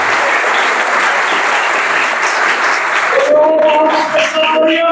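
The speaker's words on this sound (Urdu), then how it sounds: "آپ سب کو ایک بار پھر پیرش کی 165ویں سالگرہ بھرپور تالیوں کے ساتھ بہت بہت مبارک ہو۔" Church congregation clapping for a parish's 165th anniversary, a loud sustained crowd applause that thins near the end as a voice and tonal sound emerge over the fading claps.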